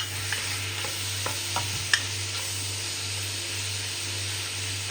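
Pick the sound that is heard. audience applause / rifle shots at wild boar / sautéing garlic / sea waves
sautéing garlic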